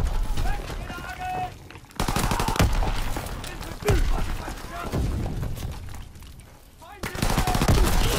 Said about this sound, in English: we're gonna try the machine pistol